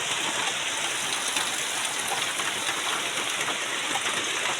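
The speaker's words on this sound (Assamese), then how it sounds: "তথাপিও আজি মানে বৰষুণটো আজি বেছিকৈয়ে দি আছে চাওক" Heavy rain falls in a steady, dense hiss across the whole stretch, a continuous even wash with no pauses and no voices.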